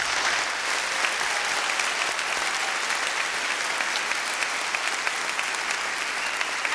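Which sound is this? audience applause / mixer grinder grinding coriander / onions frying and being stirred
audience applause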